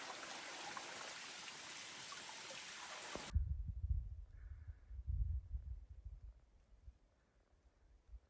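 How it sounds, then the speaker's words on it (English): Flowing stream water at a river crossing on the Appalachian Trail, a broad steady rush for about three seconds that cuts off abruptly, leaving faint low splashes and bumps nearby. "River crossing."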